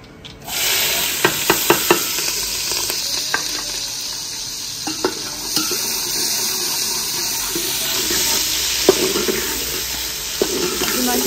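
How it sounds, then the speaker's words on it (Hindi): Ghee sizzling and frying in a pan over a village cooking fire, a steady loud hiss that starts abruptly and fills the clip, with occasional stirring clinks and pops close by. "घी जल रहा है।"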